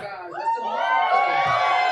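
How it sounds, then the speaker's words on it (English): An audience at a poetry slam cheers and whoops with rising shouts and excited voices, building into a sustained, moderately loud crowd noise. "your mediocre and lukewarm applause were correct"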